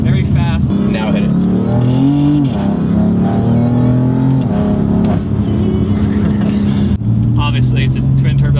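A 600-horsepower BMW M4 with a twin-turbo straight six pulls hard in second gear, its engine tone climbing and shifting as the car accelerates, with someone talking over it throughout.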